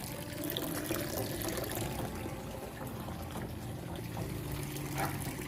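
Water pours into a goldfish pond on a fish farm, a continuous splashing and gurgling stream with slight surges, moderately quiet and uninterrupted.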